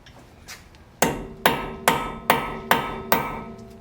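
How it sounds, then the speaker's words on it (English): Six sharp metallic hammer strikes on a punch ring out at a steady rhythm during control arm replacement on a 2011 Toyota Highlander, each loud and close with a brief ringing decay, preceded by a couple of faint taps. "Get you a punch and big ol' hammer. And we gonna hammer"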